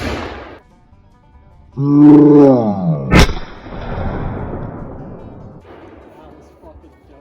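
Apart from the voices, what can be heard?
gunshot detonating Tannerite in snowman, explosion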